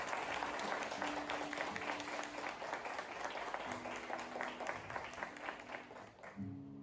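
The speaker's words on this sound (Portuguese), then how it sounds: "Em nome de Jesus, aplauda esse arcanjo." A church congregation applauding, dense sustained clapping from many hands throughout, with faint sustained musical tones underneath and the clapping thinning out at the very end.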